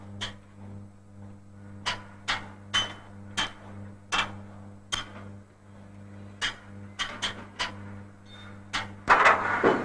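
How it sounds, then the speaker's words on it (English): Hammer tapping on the large pipes inside a steam locomotive's smoke box during a corrosion check: a dozen or so sharp metallic knocks in an irregular rhythm, close and fairly quiet over a steady low hum, ending in a brief scrape. "he climbs inside the smoke box to hammer test the large pipes for"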